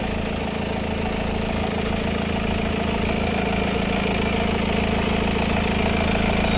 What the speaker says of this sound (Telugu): సో ఇంజిన్ సౌండ్ కూడా బాగుందండి ఎటువంటి నాయిస్ కానీ ఎటువంటిది ఏమీ లేదు